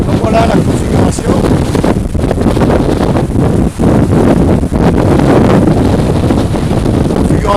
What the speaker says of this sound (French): là ça souffle bien, il y a de belles rafales